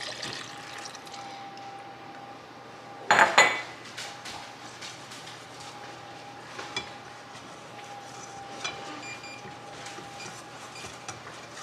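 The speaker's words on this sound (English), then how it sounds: "And now I'm going to stir in the milk and heat it up." A spoon stirs milk in a pot on a stove. A brief burst of clattering metal and pouring liquid gives way to quieter scraping and occasional clinks over a steady low hum.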